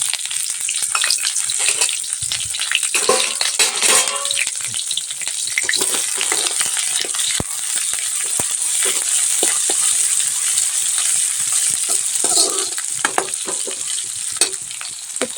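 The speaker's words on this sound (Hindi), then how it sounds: "फ़ौरन को हम भून लेते हैं।" Onion, green chilli, coriander, ginger and cumin seeds frying in a pan, a continuous bright sizzle with occasional scraping stirs and small pops, close and steady throughout.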